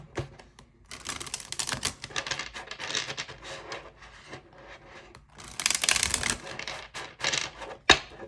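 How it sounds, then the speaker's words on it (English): Rapid riffling and flicking of tarot cards being shuffled, in quick bursts of papery clicks with brief pauses between. "let me give it a quick little shuffle."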